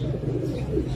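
A breeder's pigeon gives soft, low cooing in a brief burst, close by, over a murmur of background noise.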